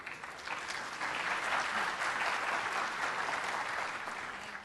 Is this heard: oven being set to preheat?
no